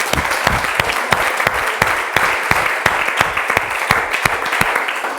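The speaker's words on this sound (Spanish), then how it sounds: "Denle un aplauso al Espíritu Santo en Cristo." An audience at a Bible institute class applauds loudly and continuously, with sharp individual claps standing out from the dense wash of clapping.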